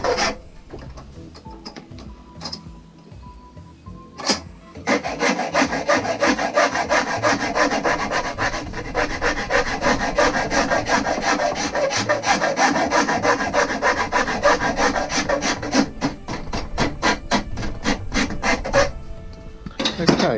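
A rasp shapes a yew wood longbow during roughing out, making continuous rapid, rough scraping strokes up close and loud, after a few sparse scrapes at the start.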